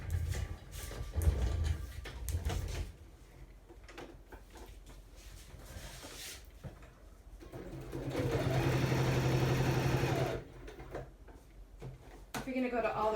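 A sewing machine runs in a steady whirring burst for about two seconds as it stitches through paper ephemera, surrounded by quieter handling noises and shuffling before and after.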